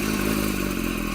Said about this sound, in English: you can hear the chatter when I release the clutch. That's that single mass flywheel.